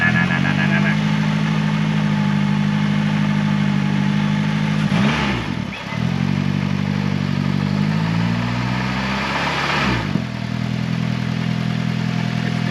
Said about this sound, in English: you put your ear right here and barely rev it, you can hear like, it might be a loose rocker